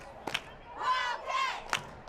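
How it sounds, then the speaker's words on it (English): High school football crowd at a Big Sandy vs Waskom game rising into a short burst of cheering and yelling, with a couple of sharp shouts around it, fairly distant and moderate in level. "Got the crowd firing it up over here."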